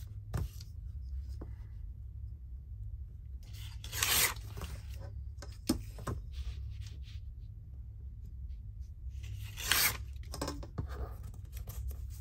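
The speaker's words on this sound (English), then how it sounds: "Very bad tearing." Paper being torn by hand during a craft session with ephemera, a few short rasping rips near 0.5, 4, 6 and 10 seconds, fairly close against a low steady hum, with no voices.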